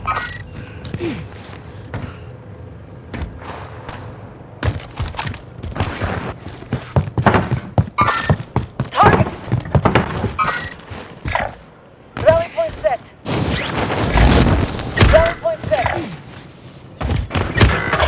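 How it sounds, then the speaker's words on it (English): Precision airstrike explosions in the game Warzone on Rebirth Island land as a burst of heavy thuds and booms amid gunfire, loud and dense, with game voice lines spoken over the action. "Strike inbound. Precision airstrike missed."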